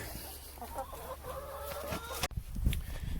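Chickens cluck around a roosting bar by an egg box in a coop, soft repeated calls running through the first two seconds before a sharp knock and bumping noises.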